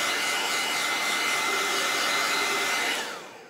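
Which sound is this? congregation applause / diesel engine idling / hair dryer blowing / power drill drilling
hair dryer blowing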